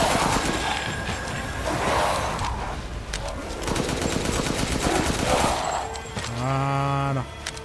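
Gunfire from a weapon in the video game Resident Evil Village, with repeated shots over a busy game soundscape, followed near the end by a tonal burst that rises in steps.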